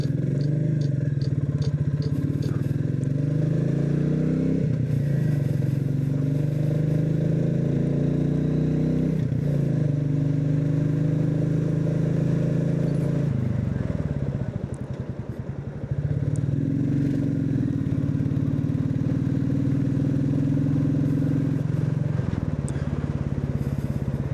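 A Royal Enfield Classic 350 motorcycle on the road, its single-cylinder engine thumping steadily and loudly throughout, with rises and falls as the rider shifts gears and changes speed, plus wind rush and no talking.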